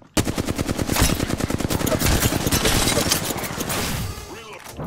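A sustained, loud burst of rapid automatic gunfire in the video game Apex Legends Arena, steady and close for several seconds before tapering off.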